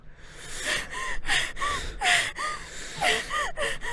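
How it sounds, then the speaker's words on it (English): Heavy, raspy breathing from someone sneaking in a summer-camp video game, a run of loud gasping inhales and exhales in an uneven rhythm, close and breathy with no talk over it. "whatever noise you're saving by tiptoeing, you're losing by breathing heavily"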